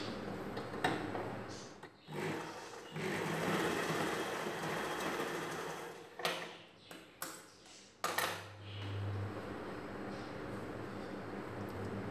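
A domestic sewing machine stitches a straight seam alongside the tucks on a princess-cut blouse, its motor whirring steadily through most of the stretch with a few brief pauses and clicks as the fabric is adjusted.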